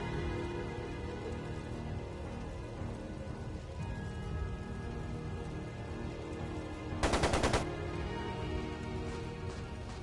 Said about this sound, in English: sounded like a machine gun.